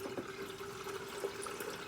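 Tap water running steadily into a pot, drawn to be boiled for breakfast at home; a soft, continuous trickle with faint dripping, fairly quiet and close.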